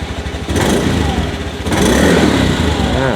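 Stock exhaust of a 2020 Honda Scoopy i TOP scooter, near and loud, idling then revved in two short throttle blips that hold a raised drone.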